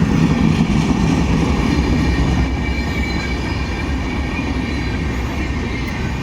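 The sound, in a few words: Patna-Howrah Jan Shatabdi Express train passing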